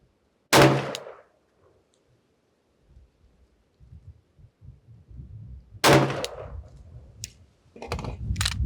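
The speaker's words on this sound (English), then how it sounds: "I should probably rest the pistol, to be honest, but I'd rather just shoot naturally at this point." Two sharp, loud 9mm pistol shots from Federal 124gr HST ammunition at an outdoor shooting range, spaced about five seconds apart, with faint handling noise and wind between them.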